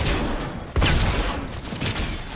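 Garbage gun firing in a video game, a rapid burst of muffled shots with one sharp loud blast near the start, followed by rattling impacts and crunchy debris, close and dense throughout.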